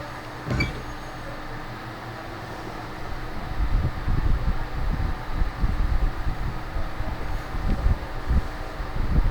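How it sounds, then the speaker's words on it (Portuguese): Electric fan running in a room, a steady low whir and rumble with wind-like buffeting that grows stronger partway through, no talking. "colocar, galera, o ventilador para lá, porque eu acho que está fazendo uma zoadinha aí e vai atrapalhar na audição de vocês"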